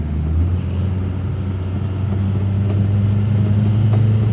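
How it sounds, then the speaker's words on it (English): A 36-year-old Nissan BE-1 with an oil pressure light on idles with a steady low engine drone that climbs slightly in pitch toward the end, heard from inside the car with no talk. "if I rev up higher, if it'll let me"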